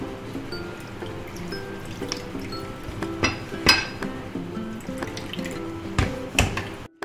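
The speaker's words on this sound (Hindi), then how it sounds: "इसको हम इस बर्तन में इसका जो भी नमक का पानी है उसको हम ट्रांसफ़र कर लेंगे ऐसे करके" Salty brine being poured off hing pickle pieces into another vessel in a kitchen, with trickling liquid, occasional clinks of utensils and a few sharp knocks, fairly quiet and close.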